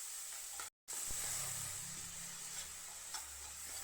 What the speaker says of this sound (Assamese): তাৰপিছত এইখিনি মই লৰাই লৰাই মজি যোৱালৈকে ভাজি থাকিলোঁ।